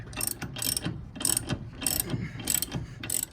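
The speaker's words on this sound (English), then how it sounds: "We're just going to tighten it up with a socket, and that should just squeeze that bushing in nicely." A ratchet with a socket tightens a bolt to press a bushing into the steering of a Mercedes 107 SL, producing six rhythmic bursts of rapid clicking, close and distinct, with no speech.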